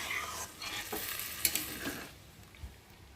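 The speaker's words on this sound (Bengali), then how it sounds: "দিয়ে একটু ভালো করে নেড়ে নেব।" Cabbage and fish head cook in a pan while being stirred, with steady sizzling and frying broken by scraping utensil strokes and a few sharp clinks. No one speaks.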